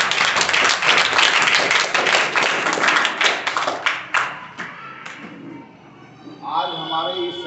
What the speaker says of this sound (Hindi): आज का सदन को आरंभ करते हैं जोरदार तालियों के साथ